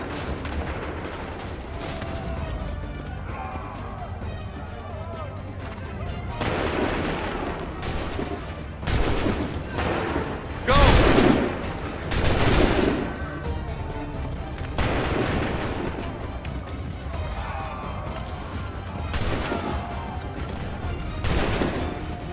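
Soldiers' volleys of musket and cannon fire in the Assassin's Creed III video game, a dense battle din with repeated loud blasts and booming bursts around the middle and later, continuous background rumble throughout.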